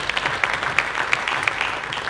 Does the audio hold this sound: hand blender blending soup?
no